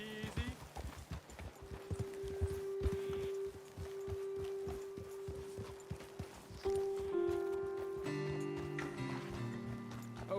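Horses walking in Red Dead Redemption 2, hooves clip-clopping in a steady, close rhythm of many hoofbeats, with sustained musical tones layered over them.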